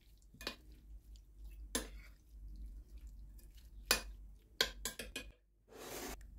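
A spoon stirs herbs and olive oil in a bowl, heard as faint, scattered clinks and scrapes against the bowl with quiet pauses between them.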